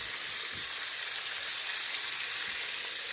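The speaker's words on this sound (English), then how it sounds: "And just let it fry away." Breaded chicken fried steak fries in a pan of hot oil, giving off a dense, even sizzle that holds steady and loud throughout, with only faint low knocks beneath it.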